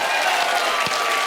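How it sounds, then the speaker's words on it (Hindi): Brief burst of studio audience applause on a Hindi music talk show, a steady wash of clapping from a sizable crowd, loud and continuous without speech. "इसके लिए भी तालियां बनती हैं।"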